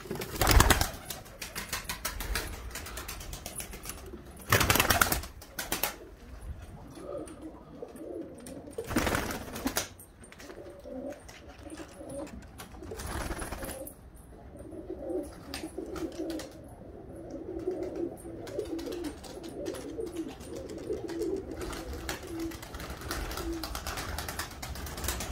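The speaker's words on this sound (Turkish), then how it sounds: "Bu kuşları ben buraya atacağım." Released racing-type play pigeons cooing and flapping their wings outdoors, a steady murmur of coos with several loud bursts of wingbeats early on, then softer fluttering and calls over wind.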